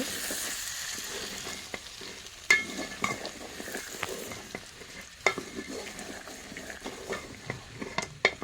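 Chopped beans and chickpea lentils being stirred together in a cooking pan, a spatula scraping and tapping repeatedly over a steady soft sizzle of frying, close by.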